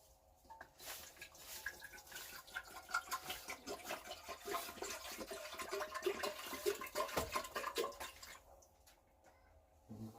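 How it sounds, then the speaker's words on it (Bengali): Water pours into a cooking pot for a mutton trotters soup, a continuous, fairly quiet splashing stream lasting most of the stretch before tapering off at the end. "প্রথমে জল দিয়ে দেবো জল দেবো হাফ লিটার মতো"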